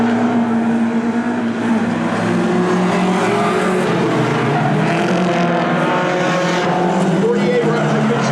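Race cars battle closely on a track, with engines roaring steadily and loudly throughout, layered engine notes rising and falling as three cars fight for position.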